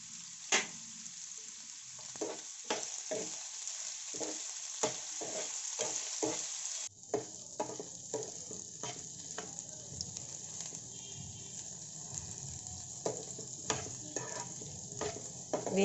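Garlic, cumin and salt sizzle steadily in a hot pan, with sharp stirring scrapes and clacks recurring throughout; the frying hiss grows fuller and denser midway, with no voices.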